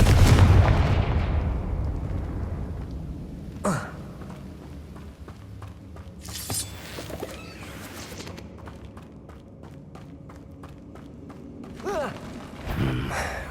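Confringo blasting spell in the Hogwarts Legacy video game, a loud booming explosion at the start that rumbles and fades, followed by quieter thuds and impacts, with voices heard.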